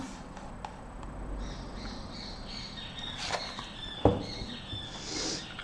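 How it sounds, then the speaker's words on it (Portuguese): Small birds chirp faintly at a distance, with scattered short tweets over a quiet, low background hum. "Os passarinhos acordaram"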